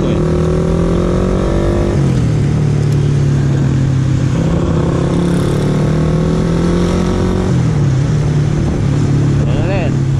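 A Suzuki Raider R150 Fi motorcycle filtering slowly through traffic, its engine droning loud and close with the pitch dipping and rising as the clutch is worked, over steady road noise.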